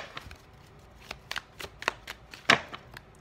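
Tarot cards are shuffled quietly at close range in a run of soft riffling clicks and slaps that build to a louder flurry, with no talking.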